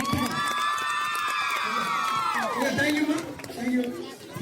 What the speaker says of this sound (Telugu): అందమైన మన రమణ సార్ గారికి మీ ఆనందమైన చప్పట్లతో స్వాగతం తెలియజేస్తాం.